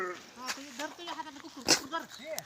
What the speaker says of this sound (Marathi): हे बघा मित्रांनो, एकूण 30 मेंढ्यांचा कळप आहे.